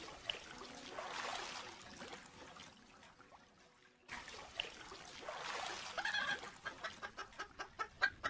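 In a cartoon of a flooded village, chickens carried by hand on a boat cluck in short repeated bursts near the end, after quieter scuffling and a pause; no one speaks.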